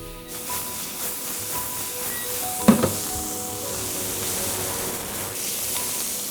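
Oyster mushrooms sizzle steadily in a frying pan, a soft continuous hiss with one brief louder crackle midway.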